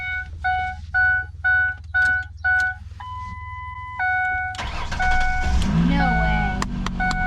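An old free pickup truck sounds a string of electronic beeps, then its engine cranks and catches with a loud roar and settles into a rough, rumbling idle, close by on a hot, humid day.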